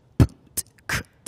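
A mouth imitates a basic hip-hop drum beat in beatbox style, with deep bass kicks, a crisp snare and sharp hi-hat clicks, four close, dry hits in a sparse pattern.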